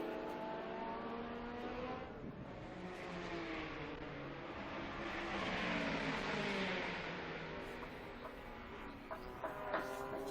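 Race cars at the Estoril circuit during the Estoril Classics race down the straight, engines building to a passing roar and then fading, with a distant, steady drone and a few brief sharp knocks near the end.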